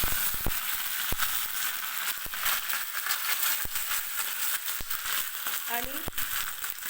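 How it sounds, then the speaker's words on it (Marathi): Mustard seeds and curry leaves sizzle in hot oil, a steady bright crackle with scattered pops and spits throughout, and one louder burst near the end, with no talking. "तेलामध्ये सुरुवातीला मोहरी टाकून घ्यायची आहे."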